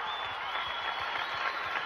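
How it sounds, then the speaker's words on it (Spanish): Audience applauding a head of state at a telethon: steady, dense clapping from a crowd, fairly faint and continuous throughout, with no voices standing out. "Fuerte aplauso para el excelentísimo señor presidente de la República."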